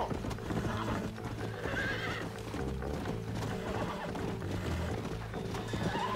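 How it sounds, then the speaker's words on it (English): Hooves pound in a quick galloping rhythm in Red Dead Redemption, with repeated horse whinnies and snorts over the steady clip-clop, close and fairly loud. "The horse is not feeling me right now."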